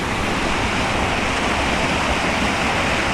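The river rushing through the Verdon Gorge in the south of France in autumn, heard as a steady, dense broadband roar of flowing water, close and constant, with no speech.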